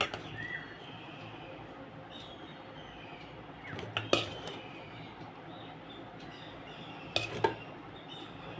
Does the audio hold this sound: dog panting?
no